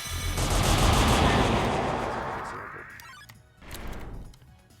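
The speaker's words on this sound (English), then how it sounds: "as soon as he teleports away, use the gunshots to follow up" A volley of gunshot attacks in the Roblox game Undertale: Arena, a loud dense burst of rapid crackling fire that fades over a few seconds, followed by a second, shorter surge of shots.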